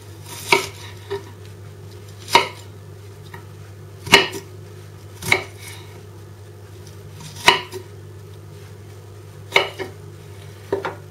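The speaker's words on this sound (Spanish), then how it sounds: "La cebolla también la trocearemos un poquito." Knife chopping onion into pieces on a cutting board while making guacamole, about eight sharp, separate thuds spaced unevenly over a steady low background hum, close and fairly loud.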